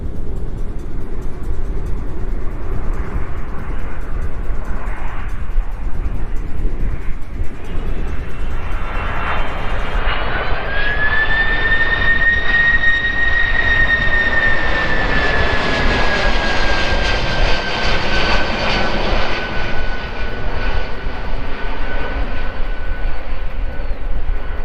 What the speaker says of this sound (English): That's not a touch and go because it didn't touch the runway at all. That's called a low approach.